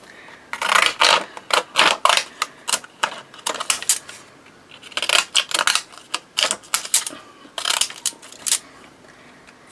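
Deckle edge scissors snip through paper while scraps are cut for a Christmas journal, making crisp, close clusters of crunchy cutting bursts separated by brief pauses.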